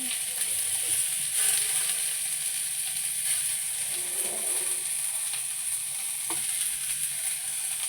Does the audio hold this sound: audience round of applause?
no